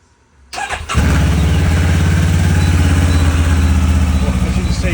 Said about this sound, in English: If I switch the engine on